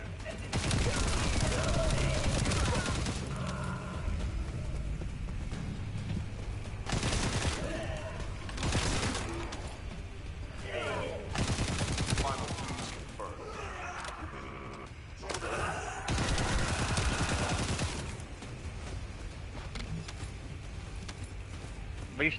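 Gunfire crackles through the swamp combat of The First Descendant, bursts of rapid shots in loud dense waves that rise and fade over continuous game noise, with a voice speaking at times.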